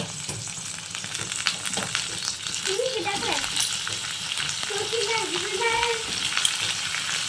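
Pumpkin curry (kumda sabzi) sizzles steadily in a hot pan while being stirred, a continuous close frying hiss with faint scraping and a few brief voices underneath.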